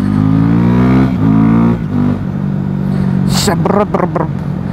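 A motorcycle engine revs and roars through an acceleration, loud and close, with a voice talking over it.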